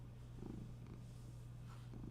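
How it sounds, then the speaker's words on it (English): A cat purrs close by in a steady low rumbling hum, with soft rhythmic breath pulses throughout. "you can hear my cat purring"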